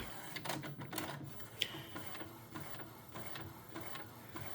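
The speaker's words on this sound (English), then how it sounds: "we're going to let this finish printing out" A DTF printer runs a transfer onto Asub DTF film, its head carriage whirring and clicking in repeated passes with a brief sharp tick partway through, steady mechanical printing with no voices.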